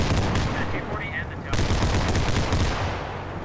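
Sustained gunfire rattles through the whole stretch of a Squad firefight, loud and dense machine-gun bursts with a brief lull partway before the shooting surges again, no speech over it.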